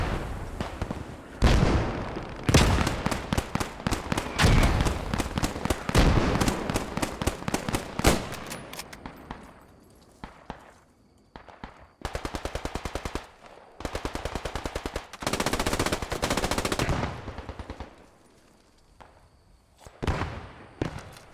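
Gunfire crackles through a trench battle in a console video game. Rapid machine-gun bursts and clustered shots come in loud, dense volleys, separated by quieter gaps, with no voices over them.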